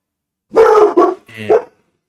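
A dog barks close by: one loud bark, a quick second, then a rougher third, all sharp and alone against silence.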